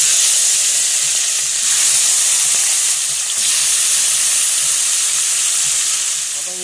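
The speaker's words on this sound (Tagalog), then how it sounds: "Habang hinintay natin maluto yung perinitong isda" Fish shallow-frying in a home kitchen pan, a steady broadband sizzle and hiss held close and loud throughout, with faint clinks near the end.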